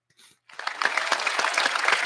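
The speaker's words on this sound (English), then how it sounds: "Let's all give a rousing round of applause for the one and only Nicky Hill" Applause sound effect on a gaming podcast: after a short faint blip and a brief gap, dense clapping with scattered cheers swells in and continues loudly to the end.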